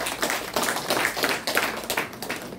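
An audience at a Korean calligraphy exhibition opening gives a short round of applause for an introduced guest, a dense patter of many hands clapping nearby.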